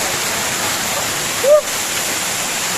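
Constant broadband roar of a waterfall at a swimming spot, steady throughout at moderate loudness, with one brief high chirp-like sound near the middle.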